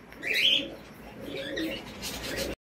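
Soft, low coos from a pair of Madrasi pigeons close by, a few murmuring calls rising and falling with faint higher chirps, ending in a brief silence.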